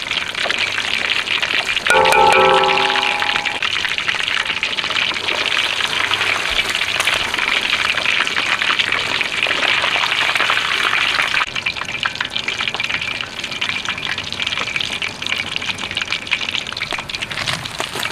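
Sea bass sizzling steadily in hot oil in a pan while being fried for a Thai three-flavour dish. The crackle is loud and close, with a brief ringing tone near the start.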